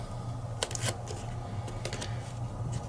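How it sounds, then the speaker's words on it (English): Paper flaps being folded down for an origami Easter egg, with a few quick crisp rustles and creases close by over a low background hum. "Alright, now fold the flaps down."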